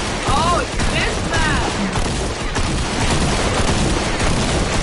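A double-barrel shotgun in a video game fires rapidly, blasts packed into a loud, continuous barrage with crashing game noise that never lets up.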